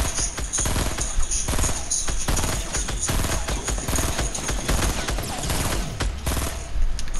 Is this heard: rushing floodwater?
no